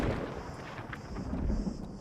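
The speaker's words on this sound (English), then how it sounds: "Hammer is sick. I love the thunderclap it makes." A deep thunderclap rumble from a hammer attack in the video game New World, a brief low boom that rolls and fades over about two seconds, fairly quiet.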